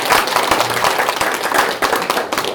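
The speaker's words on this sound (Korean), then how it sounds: "다시 한번 박수 한번 주시기 바랍니다" Audience applause at a Korean commemorative event in Geumsan for the day recognizing American POWs and missing soldiers of the Korean War, with dense steady clapping throughout that stays loud and close.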